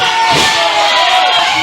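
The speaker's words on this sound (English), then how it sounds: "The crowd chanting that was 3" A wrestling crowd at an independent pro wrestling show roars and chants loudly, a dense, close wall of cheering voices filling the whole moment.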